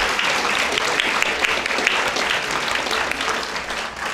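Sustained applause from an audience at a high school awards ceremony honoring 4.0 students, a dense, even wash of clapping that holds steady throughout and tapers slightly at the end.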